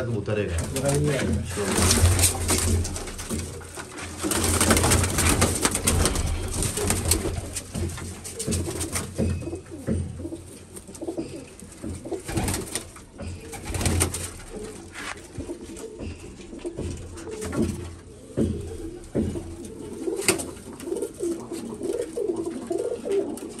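Pigeons, including a black pigeon, coo repeatedly at close range in low rolling calls, with people talking over them throughout.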